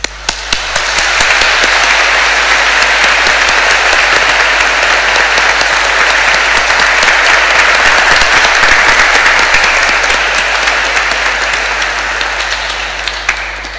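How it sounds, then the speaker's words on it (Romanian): A congregation in a cathedral applauds young people during a Mass, sustained loud applause from a large crowd that swells quickly, holds steady with dense overlapping claps in a reverberant space, then slowly tapers. "propun să-i aplaudăm pe acești tineri"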